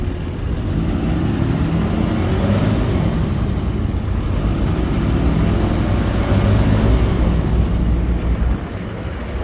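A 2013 Ford F-750 forestry bucket truck idles steadily at close range, a continuous low diesel rumble with no breaks, holding an even level until it eases slightly near the end.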